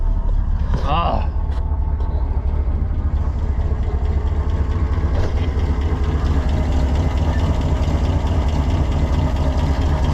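Ford L-Series truck engine idling rich with the air cleaner lid down, a steady low rumble running throughout, with a brief voice near the start.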